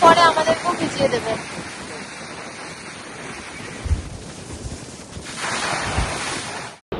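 Sea waves crashing on the shore at Rameswaram, a broad rushing surge with wind buffeting the microphone, swelling again near the end before cutting off abruptly.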